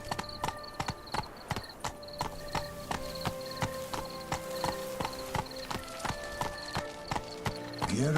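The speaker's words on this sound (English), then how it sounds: "Whoa there, Roach." Rhythmic clip-clop of a horse's hooves in The Witcher 3 video game, steady and fairly close, with a whinny near the end.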